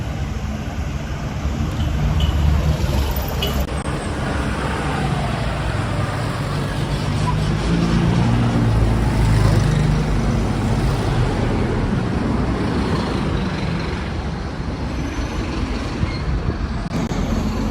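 Street traffic in Guatemala City, with a police pickup truck passing, a dense continuous roar of engines and tires that swells and fades, loud and close, with a person talking over it.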